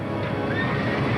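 A horse whinnies loudly and close, with clip-clopping hooves beneath, in a short burst with no talking.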